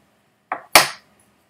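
A short metallic pry from a bottle opener followed by a sharp hiss-pop as the cap comes off a glass tonic water bottle, brief and close, in an otherwise quiet room.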